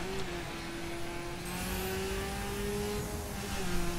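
A Mini Countryman Cooper S in The Crew racing game drives with a steady, droning engine note that holds a constant pitch and swells slightly near the end, with no voices.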